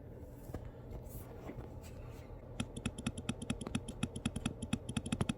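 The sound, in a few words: M2 MacBook Air keyboard typing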